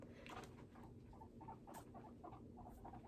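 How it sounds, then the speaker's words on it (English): Guinea pigs scurry and rustle in a cage, with soft patters and light scratching sounds repeating irregularly at close range. "the guinea pig noise in the background"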